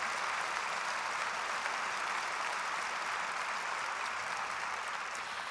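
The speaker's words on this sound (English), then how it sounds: "So please give them a big round of applause for offering this space for us." Mourners at the public memorial service for Murray Sinclair in Winnipeg applaud, a steady, even roar of many hands clapping from a large hall, moderately loud and unbroken throughout.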